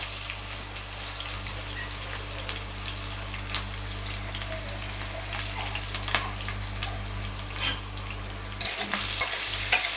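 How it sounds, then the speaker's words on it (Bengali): Potatoes fry lightly to a reddish brown in a pan for a Bengali fig curry. A loud, continuous sizzle with scattered pops and occasional stirring scrapes runs throughout. "আলুগুলোকে অল্প লাল করে ভেজে নেব।"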